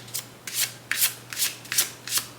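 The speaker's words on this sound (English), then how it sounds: "I'm shuffling again" Tarot cards shuffled by hand in close, crisp riffling bursts, about six quick rustling passes in a steady rhythm with short pauses between, and no talking.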